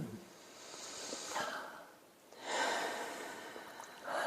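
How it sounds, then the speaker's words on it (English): Slow, deep breaths come in long airy waves, two full inhales and exhales with a third starting, close and fairly quiet, with no talking during a calm relaxation exercise. "Take a few deep breaths."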